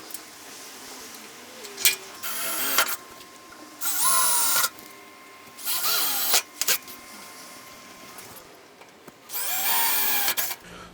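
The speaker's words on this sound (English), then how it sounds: "So I drilled these holes with just an 8-inch bit as they suggest." Drill boring holes with an 8-inch bit for a Jet dust collector and Wynn filter upgrade, four or five whining bursts of one to two seconds with quiet gaps between, close by.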